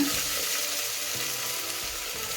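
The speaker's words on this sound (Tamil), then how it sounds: "இப்போ இந்த ஸ்டேஜில் பெரிய வெங்காயம் போட்டுக்கலாங்க" Large onions dropped into hot oil for a Kongu-style rice and dal meal give off a steady, close hiss of frying, with faint low clatter underneath and no voices.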